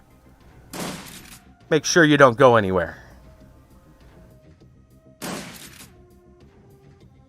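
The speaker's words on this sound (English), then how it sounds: "I'm sure nobody heard those gunshots." Two short bursts of gunfire in the video game Shadowrun: Dragonfall, a second or so long each and separated by several seconds, with someone speaking briefly between them over faint background hum.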